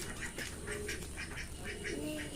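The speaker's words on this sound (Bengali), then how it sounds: "তোমার হাঁসগুলোকে অনেকদিন দেখানো হয়নি, চলুন হাঁসগুলোকেও দেখ" Pet ducks quack repeatedly in a quick, steady series of nasal calls, fairly close and moderately loud, with a person's voice faintly in the background.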